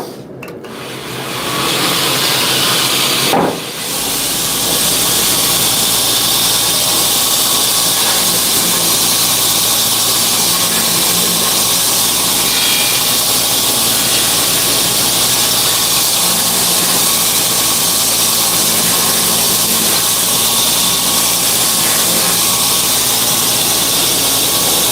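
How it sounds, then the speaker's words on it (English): A bench grinder works on a hand-forged steel tomahawk head, a loud, steady, harsh hissing squeal that starts after a brief pause and continues unbroken at close range, with no talking over it. "I'm going to have to run this over to the grinder really fast"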